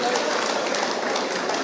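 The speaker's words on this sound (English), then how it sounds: "Round of applause for him" An audience at a trade fair closing ceremony applauds with dense, steady clapping throughout, a continuous crackling wash of many hands with no distinct individual claps.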